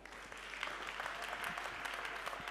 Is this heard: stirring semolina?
no